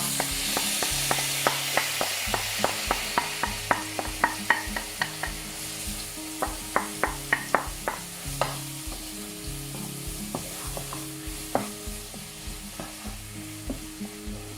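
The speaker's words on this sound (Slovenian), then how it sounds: "V raztopljeno maslo primešamo naribana jabolka." Grated apples are stirred into melted butter in a pot, a soft sizzle under a long run of regular, sharp spoon-scraping strokes, close and rhythmic, with no talking.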